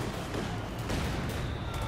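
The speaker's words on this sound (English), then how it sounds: "Got some machine guns and 2cm auto cannons just tagging into them." Machine guns and 2cm autocannons fire in a Company of Heroes 2 battle, a dense, continuous rattle of gunfire with distant booms, loud and unbroken throughout.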